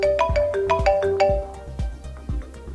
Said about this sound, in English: Instantly, Phone Factor calls my phone.